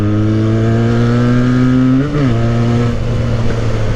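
A modified Benelli motorcycle idles close up with a loud, deep, steady exhaust drone. It blips its revs once midway, giving a brief pitch rise and a choppy stutter, then settles back to a rough idle.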